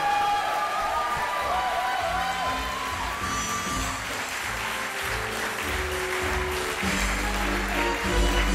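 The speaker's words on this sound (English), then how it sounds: "And give your last big round of applause to Olivia." A theatre audience at the end of a show claps and cheers, with whoops and shouts over steady applause and music playing underneath, loud and lively throughout.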